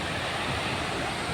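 Steady, dense rush of falling water at a waterfall, a continuous broadband roar with no pauses, loud and close, with no voices over it.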